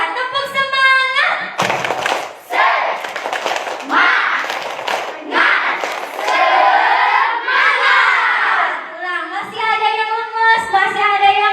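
A crowd of schoolchildren at SD Inpres Lokoboko claps and shouts the tepuk semangat chant in unison. The rhythmic claps and voices are loud and close, with an adult voice leading between bursts.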